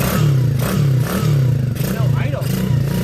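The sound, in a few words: Coolster 125cc engine running without proper idle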